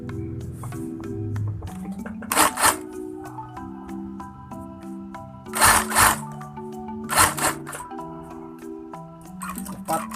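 Sewing machine stitching the side slit of a shirt, a faint mechanical whir in short runs with brief louder rustling bursts as the fabric is handled, over soft background music.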